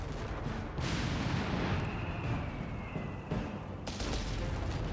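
In Company of Heroes 3, heavy artillery rumbles and booms continuously in a dense battle soundscape. Deep blasts roll one into another, loud and sustained, with a thin whistling tone drifting through the middle.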